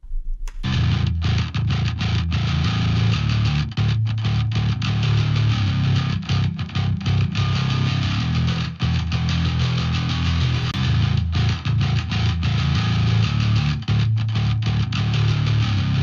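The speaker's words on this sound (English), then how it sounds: "I bring up that fader with the room reverb and see what happens to the bass tone" Heavy distorted bass guitar chugs in a driving rhythm, thick and low, with a roomy reverberant tail around the notes.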